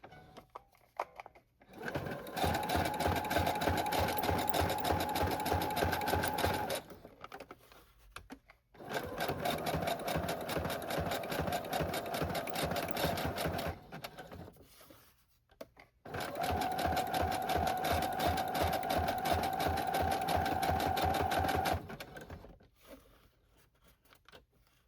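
A sewing machine stitches around altered playing cards for a notebook cover in three long runs of fast, even mechanical clatter, separated by short pauses, close up and alone.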